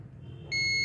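A multimeter's continuity beep sounds while e-rickshaw controller resistors are checked: a low rumble first, then a sudden sustained high electronic tone for the final moment.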